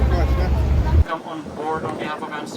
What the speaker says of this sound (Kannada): ಸೊ ಬೋಟ್ ರೈಡು ಸ್ಟಾರ್ಟ್ ಆಗಿದೆ